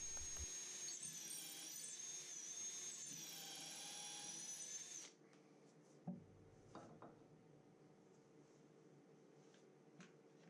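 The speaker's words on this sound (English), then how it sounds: "I'm drilling a hole out here, and then I will drive in my screw." A power drill whines steadily and loudly for about five seconds, then stops, leaving quiet workshop rustling and a few small knocks.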